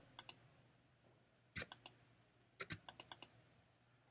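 Computer mouse clicks in editing software come in quiet, close, sparse bursts: a pair early, then small clusters of quick taps with pauses between, over a faint low hum.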